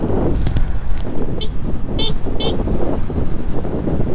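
The horn of a Suzuki Swish 125cc scooter gives three short beeps in quick succession while riding on a mountain road, over loud wind buffeting and engine noise.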